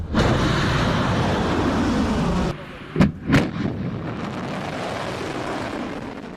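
Bombs from an Israeli air strike on Beirut boom in a heavy rumbling roar, then two sharp distant blasts follow after a lull, with a voice heard faintly.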